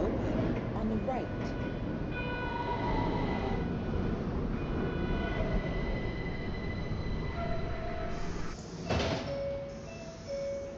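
A New York subway Q train standing at a station: a steady low rumble of the train runs throughout, with a sharp clatter near the end and an announcement tone.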